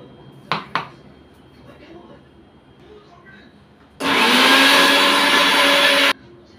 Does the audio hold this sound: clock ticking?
no